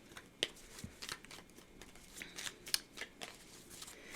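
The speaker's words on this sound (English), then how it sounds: "Let me pull you a few more cards." Tarot cards are shuffled and pulled, giving soft papery flicks, slides and crisp snaps in an irregular sequence, close and quiet, with no talk.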